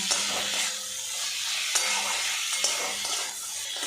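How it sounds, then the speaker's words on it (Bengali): Teasel gourd (kakrol) sautés with spices in oil that has begun to separate, giving a continuous sizzle broken by a few sharp scrapes of stirring, close and fairly loud, with no talking. "কাঁকরোলটা মশলার সাথে বেশ কিছুক্ষণ কষিয়ে নিয়েছি, তেলটাও বেশ আলাদা হয়ে গেছে"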